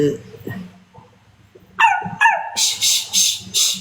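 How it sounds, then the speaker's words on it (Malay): A dog yelps twice after some talk, then barks four times in a quick, loud, close run. "Anjing, anjing."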